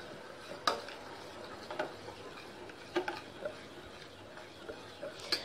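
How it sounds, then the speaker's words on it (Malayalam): Semolina (rava) with ground cashew paste cooking in a pan, stirred with light, irregular clicking and tapping of a spoon against the pan over a quiet background, with no one talking. "അവ റവ വെന്ത് വരുന്നത് വരെ നമുക്കൊന്ന് ഇളക്കി കൊടുക്കാം."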